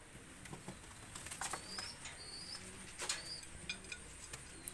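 Two young Golden pigeons with Alif beaks are let go, with a few brief bursts of wing flapping and faint coos and chirps against a quiet background.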